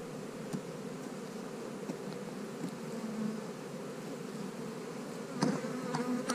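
Honeybees on hive frames buzz steadily and close by in a continuous, dense hum, with a few faint clicks and knocks.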